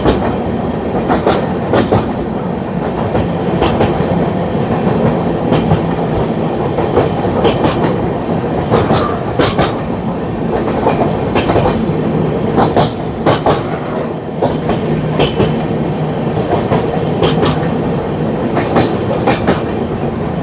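The Odisha Sampark Kranti train, travelling from Tatanagar to Delhi, runs along the rails with a loud, continuous rumble and a steady clickety-clack of wheels over rail joints, heard close and without voices.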